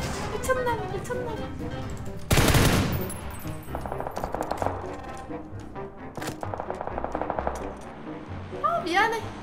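Automatic gunfire bursts from PUBG, with a loud sustained burst near the start and further rapid volleys, mixed with game effects and people talking over it.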